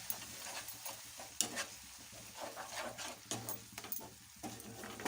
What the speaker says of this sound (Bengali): একটু সামান্য জল দিয়ে মশলাটাকে কষিয়ে নিচ্ছি